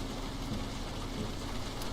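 Steady hiss of rain falling on a wet race track in the iRacing sim, a constant, even wash of droplet noise with no engine or voices over it.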